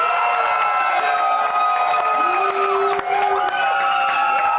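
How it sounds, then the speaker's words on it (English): Crowd noise at a St. Patrick's Day fight event, a steady loud roar of cheering and shouting voices with whoops rising over it, continuous throughout without a break. "So now we're gonna go with a crowd applause."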